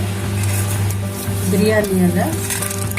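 Hot oil sizzles and crackles steadily as biryani spices fry for Tamil mutton sukka, with a low hum and faint talking underneath.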